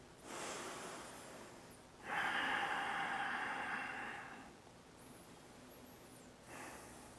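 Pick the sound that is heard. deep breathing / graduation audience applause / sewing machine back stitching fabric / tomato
deep breathing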